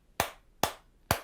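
Three sharp, evenly spaced claps from a toy monkey in a haunted escape room ring out close and loud against near silence.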